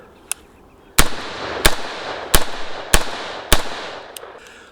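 An AR-15 rifle fitted with a Trinity Force silent buffer fires five sharp, loud shots at roughly even intervals outdoors, with a fainter pop before and after them.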